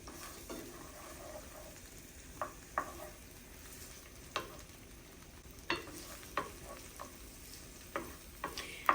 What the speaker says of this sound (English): going to stir these veggies together, so all the flavors can come through before I add the meat